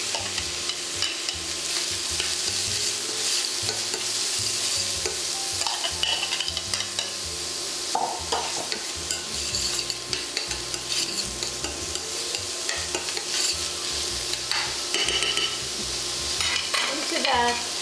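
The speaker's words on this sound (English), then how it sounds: "I will add the onion, cook them until they are translucent." Onion softening in oil in a pot, a continuous moderate sizzle with a regular scraping stir running throughout, no voices.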